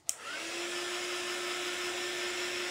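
A hair dryer blows steadily on a painted tin lid, its broadband whooshing airflow and faint motor whine starting with a click and holding constant, close and loud, with no talking.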